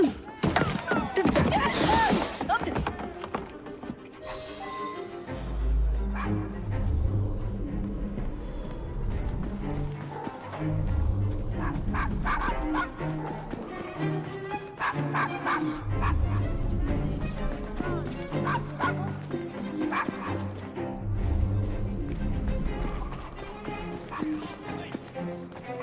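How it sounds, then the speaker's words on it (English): A dog barks and whimpers in the video game Assassin's Creed Syndicate, with yips and thuds mixed among voices and other game sounds over a long, busy stretch. "Shut up, dog!"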